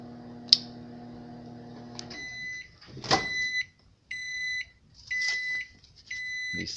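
A microwave oven hums steadily for about two seconds and stops, followed by a thud and then several loud, clear electronic beeps in short groups, with no talking.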